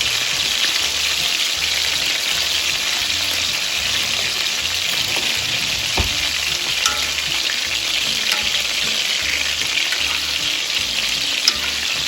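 Smash burgers topped with cheese fry on a hot griddle, giving a loud, steady sizzle and crackle that runs unbroken throughout with no voices.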